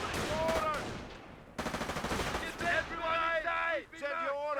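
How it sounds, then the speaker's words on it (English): Artillery and gunfire in the Company of Heroes strategy game, dense rapid bursts of firing and impacts that run almost continuously, loud and close, with a voice speaking over the battle. "Oh, hello there, artillery"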